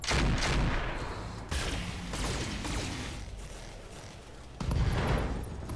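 Heavy weapon fire and explosive impacts in the mech combat game Roguepoint, several booming bursts with rumbling decay, close and loud, without talk.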